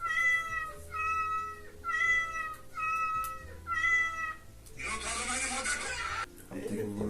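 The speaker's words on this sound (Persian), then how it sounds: "صدای گربه در کشورهای مختلف" A cat meows five times in a steady, evenly spaced run, each call loud and close, followed by a burst of broad noise.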